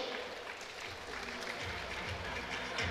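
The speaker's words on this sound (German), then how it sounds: "Ich ersuche auch einen sportlichen Applaus für seinen Gegner" At an MMA event, the crowd gives sporting applause for the losing fighter: faint, steady clapping from a distant audience with no speech over it.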